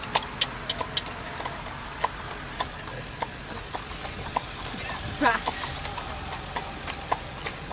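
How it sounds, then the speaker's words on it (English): A horse pulling an Amish buggy in Lancaster County clip-clops at a steady walking rhythm, crisp hoof strikes on pavement, with a person talking over the hooves and light road noise underneath. "this is Mary the horse"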